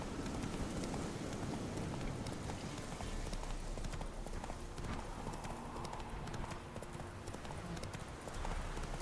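Hoofbeats of the horse Roach galloping steadily in The Witcher 3, a continuous rapid clip-clop rhythm at close range over a dense game soundscape.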